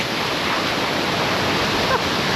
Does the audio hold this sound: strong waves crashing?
yes